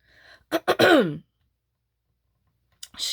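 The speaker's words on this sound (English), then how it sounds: "Excuse me for clearing my throat." A person clears their throat with a couple of sharp, harsh rasps followed by a drawn-out guttural hum, close and fairly loud. A shorter throaty rasp comes after a pause of silence.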